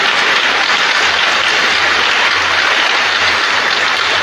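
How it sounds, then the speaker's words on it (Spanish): A church congregation at Mass breaks into loud, sustained applause, a dense, even wash of many hands clapping with no break throughout. "Aplausos al Señor, que no nos deja en la oscuridad."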